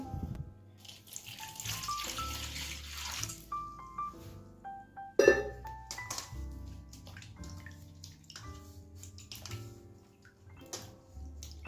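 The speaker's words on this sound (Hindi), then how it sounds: "क्या करना है पता है हमें? इसको धोना है आटे को." Water poured over flour dough as it is washed by hand in a home kitchen, with splashing, squelching and dripping sounds that come in bursts and are fairly close.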